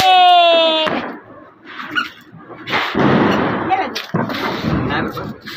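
Diwali firecrackers explode at a household celebration in loud, sharp bursts and crackles spread over several seconds. A high whistling rocket-like tone opens the sequence, and voices can be heard talking faintly in the background.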